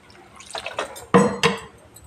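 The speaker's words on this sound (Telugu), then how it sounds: "ముక్కలు మునిగే వరకు నీళ్ళు వేసిన, వాటర్ వేసిన" Water poured into a pot of chicken curry, heard as a few short splashing and dripping bursts that are close and moderately loud, with quiet gaps between the pours.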